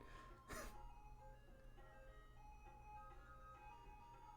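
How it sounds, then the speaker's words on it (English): Ice cream truck playing its tinny looping jingle outside, faint and distant, heard indoors under a low background hum, with a brief sharp noise near the start. "I hope you don't hear the ice cream truck outside"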